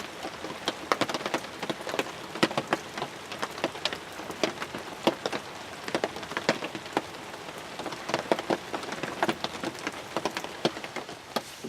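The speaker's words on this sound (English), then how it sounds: "it's still raining" Steady rain pours down outdoors during a turkey hunt in South Carolina, a dense continuous patter with scattered sharper drops hitting nearby surfaces, with no voices.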